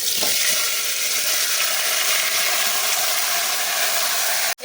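Ash gourd pieces and washed mung dal dropped into hot oil in a pan: a loud, continuous sizzling hiss with some stirring scrapes, steady throughout and cutting off at the very end, no talking.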